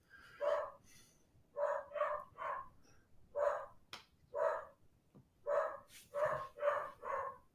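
A dog barks indoors in a string of about a dozen sharp barks, some in quick pairs and triplets and some spaced out, moderately loud and clear against a quiet background.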